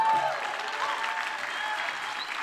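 Conference audience applauding a poet's introduction, a full, even roar of many hands clapping close and loud throughout, without any talk over it.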